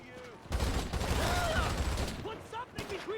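SMG Mark II bursts in GTA Online crackle as a rapid fusillade for about two seconds, then trail off into scattered clicks, with people talking over the shots.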